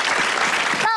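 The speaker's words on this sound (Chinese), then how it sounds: "大家一起拍拍手" Children clapping together at a magic show, a dense burst of applause from a group that stops abruptly at the end, with talk mixed in.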